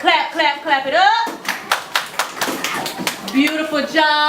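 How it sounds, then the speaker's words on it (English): Kindergarten children clap together in a quick, fairly loud burst of tapping, with an adult's voice speaking and singing over it before and after the claps. "Clap, clap, clap it up."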